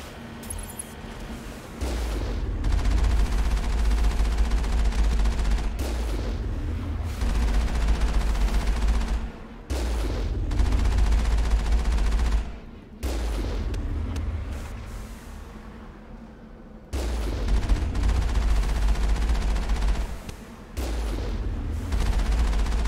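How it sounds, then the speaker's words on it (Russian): Sustained bursts of gunfire in the Mass Effect video game, loud and continuous, broken by short pauses between volleys, with no voices. "Стрельбы в окно."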